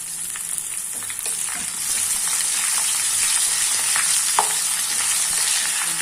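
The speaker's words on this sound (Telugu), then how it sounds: "రొయ్యలు చూడండి ఇలా రెడ్ కలర్లో ఫ్రై అవ్వాలి." Raw prawns frying in hot oil with mustard seeds, cumin, dried red chillies and garlic give a steady, close sizzle that swells after the first couple of seconds, with occasional stirring scrapes and pops.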